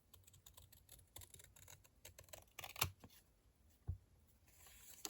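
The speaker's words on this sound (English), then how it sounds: "So I just simply take my long scissors" Quiet, close snipping and clicking of long scissors cutting paper scraps, with two sharper cuts standing out among soft rustles.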